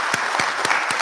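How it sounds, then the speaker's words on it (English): Applause at a business school hooding ceremony, a brief burst of audience clapping with a few distinct sharper claps standing out in a steady rhythm. "I think that they all deserve a round of applause for taking on this initiative"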